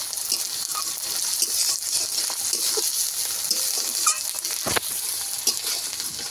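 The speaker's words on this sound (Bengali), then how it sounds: "টমেটোটা যতক্ষণে না একটু নরম হয়ে যায় ততক্ষণ ভাজবো" Tomatoes fry in hot oil in a pan, cooked until soft, giving a loud continuous sizzle with scattered stirring scrapes and one sharp knock near the end.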